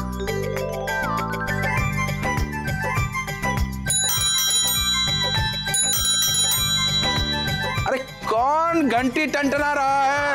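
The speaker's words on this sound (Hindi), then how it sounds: "घंटी टंटना रहा है" Bell ringing repeatedly over busy background music in an Indian sitcom household scene, with high metallic tones layered through the mix and a brief dip near the end.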